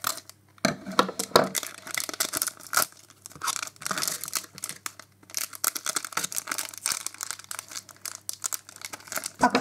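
Continuous crinkling and tearing of a foil Pokemon Evolutions booster pack wrapper, close and busy, with irregular crackly bursts and rustles throughout, no talking.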